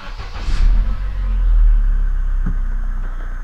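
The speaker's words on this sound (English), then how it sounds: "Now the car will start." An Opel car with an Easytronic gearbox and a faulty clutch actuator cranks and fires up close by, with a brief rise in revs that settles into a steady, loud idle rumble.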